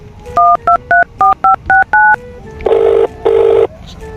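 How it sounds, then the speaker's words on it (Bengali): A phone keypad beeps through a quick run of about eight dialing tones, then two long ringback buzzes follow as the call connects. The sounds are loud and close, with no talk over them. "দাঁড়া আমার একটা বন্ধু আছে, বন্ধুকে ফোন করি।"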